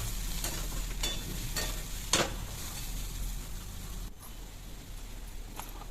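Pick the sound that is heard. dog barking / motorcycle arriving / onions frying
onions frying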